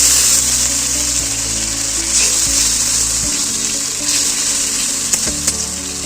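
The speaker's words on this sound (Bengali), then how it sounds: "তারপরে আর একটু জল দিচ্ছি বন্ধুরা" Water splashes into a hot pan of frying ginger for a rohu fish curry with drumsticks, the loud sizzle settling into steady bubbling with a few clinks of utensils.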